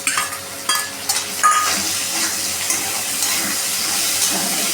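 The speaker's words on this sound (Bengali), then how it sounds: "এবার আমরা এতে দিয়ে দিচ্ছি আদা বাটা।" Ginger paste added to already-fried potatoes sizzles in a pan while being stirred for a vegetarian mochar ghonto with mung dal, with a steady close frying hiss and occasional scraping clicks throughout.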